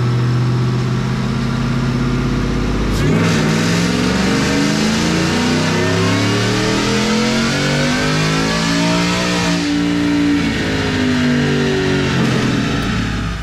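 Supercharged truck fitted with a 2022 VMP Odin supercharger kit making a dyno pull, the engine loud and close, revving steadily upward through rising whine and roar, easing briefly, then climbing again with no talk.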